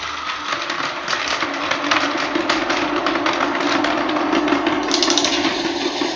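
A Tomy toy train runs along its track in a race, giving a loud continuous motor whir with rapid clicking rattle from the wheels, close by and steady throughout, with no voices.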